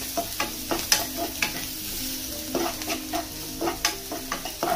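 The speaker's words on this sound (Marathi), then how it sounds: "फ्राय करून घ्यायचं." Food fries and sizzles in a pan during Indian home cooking while a spoon stirs it, with a soft steady sizzle broken by repeated sharp scrapes and clinks of the spoon. No one speaks.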